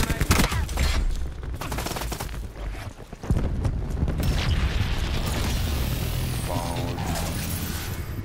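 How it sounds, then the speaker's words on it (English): Cluster grenade blasts in Call of Duty Black Ops 4, a dense burst of rapid explosions and crackling gunfire-like pops, loud and close, with a brief lull midway before the chaotic noise resumes. "Cluster grenade going in."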